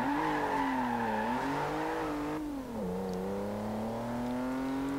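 Car in Forza Horizon 2, all-wheel drive, taking corners: a steady engine drone with a sliding pitch as it eases off and rebuilds, and a continuous whirring tire squeal underneath, even and moderately loud with no speech.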